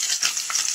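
Eggs frying in a pan for a TikTok egg-boat hack: a brief, close, crackling sizzle with bursts of spitting fat and no voices.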